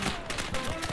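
Rapid gunfire in the World War II game Gates of Hell: a dense, sharp burst of overlapping shots, loud and close, filling a brief moment of battle.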